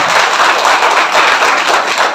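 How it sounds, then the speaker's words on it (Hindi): A hall audience at a motivational speech breaks into loud, dense clapping that holds steady for the whole stretch, with no voices over it. "जबरदस्त ताली बजाइए"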